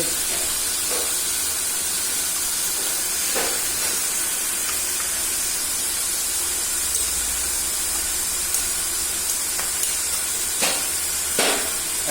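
Spice paste of turmeric, ground cumin and blended masala frying in hot oil makes a loud, steady hiss of sizzling, with a few faint knocks and clicks and no talking.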